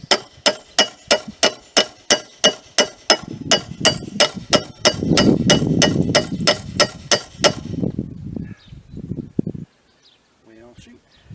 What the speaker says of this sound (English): I'm going to use a hammer.